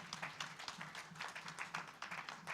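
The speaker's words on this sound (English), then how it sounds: "I think we need to give them a round of applause." Faint, steady applause from a workshop audience for the Swedish government at a Child Sensitive Social Protection Programme closeout event, many hands clapping in a soft continuous patter.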